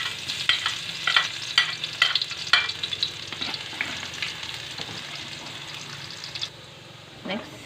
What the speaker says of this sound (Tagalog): Gisa na tayo ng bawang.